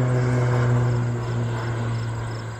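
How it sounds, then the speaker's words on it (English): A crop-spraying airplane drones low over a cornfield, a steady humming engine tone with a strong low hum, heard continuously and moderately loud without speech. "there's the spray plane"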